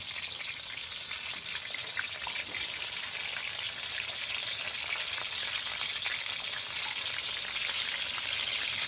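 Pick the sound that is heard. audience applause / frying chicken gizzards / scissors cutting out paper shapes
frying chicken gizzards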